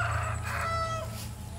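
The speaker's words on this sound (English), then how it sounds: "Oh, the cockerel." A rooster crows loudly and close by on a farm in Miri, Sarawak, Borneo, one drawn-out call with rising and falling tones over a steady low background hum.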